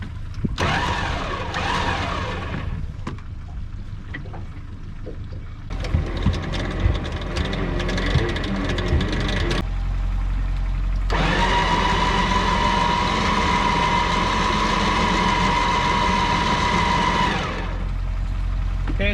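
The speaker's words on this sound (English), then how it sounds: "I'm going to start the engine to keep the battery charged." An engine on an anchored boat starts and runs steadily, a loud continuous mid-pitched drone with brief changes in intensity, close to the listener and with no talking.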